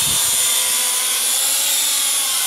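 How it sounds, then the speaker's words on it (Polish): A Syma X8C quadcopter drone flies and rotates in place, its propellers giving a loud, steady, close high-pitched buzzing whine with no talk over it. "Widzicie, obróciłem naszego drona."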